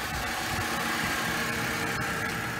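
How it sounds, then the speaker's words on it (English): A Mercedes C-Class engine idles steadily, a loud, even mechanical hum with a low vibrating rumble and no voices. "Now what I'm going to do now is just start the engine."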